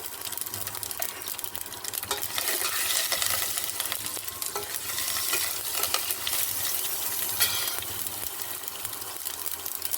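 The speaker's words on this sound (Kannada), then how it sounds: "ನೆಕ್ಸ್ಟ್ ಈರುಳ್ಳಿ ಎಲ್ಲ ಕಮ್ಮಿ ಉರಿಲಿ ಬಾಡಿಸ್ಕೋಬೇಕು" Garlic and curry leaves fry in hot oil with cumin for a palak dal tempering, a steady close sizzle with scraping stirs and occasional clinks, no talk.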